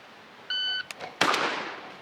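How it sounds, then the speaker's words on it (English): Delayed shot timer at a shotgun draw test sounding one clean electronic beep, followed by a couple of sharp sounds and a louder burst of noise near the end, fairly faint overall and close, with no talking. "I'm gonna give myself a beep. I got a delay set up on this"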